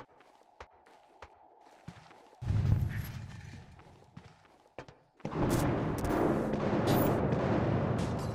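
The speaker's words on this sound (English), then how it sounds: "Were those gunshots?" Gunfire in the video game Hitman Absolution: a few sharp, isolated shots ring out over a quiet backdrop, then a heavy burst of loud, rumbling noise takes over.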